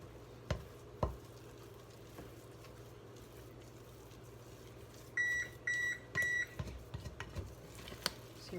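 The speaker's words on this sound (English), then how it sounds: "So your oven is ready." A kitchen oven beeps after preheating, sounding three short electronic tones in a quick even series against quiet room sound, with a few faint clicks before and after.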